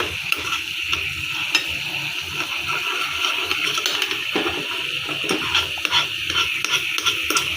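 Sugar and water being stirred continuously in a small pan to make dalgona candy, a steady close scraping and swishing with a faint bubbling hiss running throughout.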